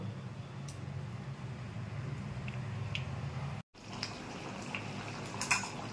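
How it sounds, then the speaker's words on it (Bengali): Katla fish pieces are slipped one by one into a boiling curry, making soft wet plops and faint utensil clinks over a steady low bubbling simmer, quiet and close. "ঝোলটা ফুটে গেছে, এবার আমি মাছগুলো আস্তে আস্তে দিয়ে দেব।"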